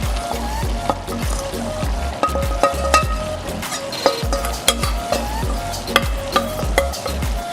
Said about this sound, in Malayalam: അപ്പോൾ തേങ്ങ അരച്ചത് നമ്മളത് ഇറച്ചിയിലേക്ക് ഇട്ട് നന്നായിട്ട് ഇളക്കി കൊടുത്തിട്ടുണ്ട്